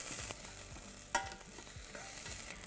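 Finely diced garlic sautéing in a pan for a vegan moussaka, a soft steady sizzle with brief stirring scrapes and one sharper clatter, close and quiet.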